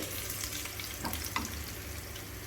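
Sliced onions frying in oil in a pan for mango pulissery, a steady close sizzle with a few brief stirring scrapes and no talk.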